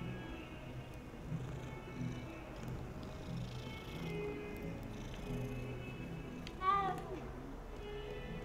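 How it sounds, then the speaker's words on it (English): A cat in Hogwarts Legacy gives a brief, faint meow near the end, rising above low game ambience and soft murmuring. "Can't take time to pet a kitty."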